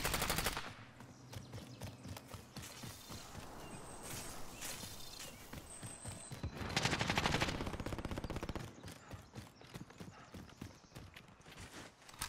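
Rapid gunfire bursts from an MP5 in a first-person shooter game, dense and loud throughout, layered with game effects and a louder swell of shots midway.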